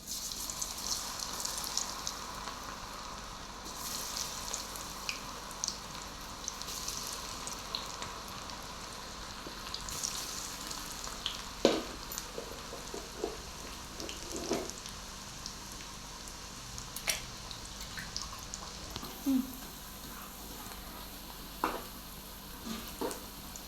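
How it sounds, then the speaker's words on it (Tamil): Cauliflower Manchurian pieces deep-fry in hot oil, producing a soft, steady crackling fizz with scattered pops and sputters throughout, fairly quiet and close, with no speech. "இப்போ வந்து நம்ம ஆயிலில் இதை பொரிச்சு எடுத்துக்கலாம்"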